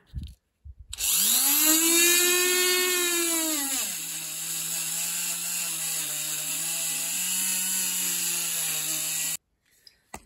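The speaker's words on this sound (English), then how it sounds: "I need to scrape off all the dirt and all the deposits, so I decided to use my Dremel grinder" A high-pitched Dremel rotary grinder whines up to speed, then its pitch drops as it grinds steadily against a ZR192 diesel engine block, scraping off deposits for several seconds before cutting off.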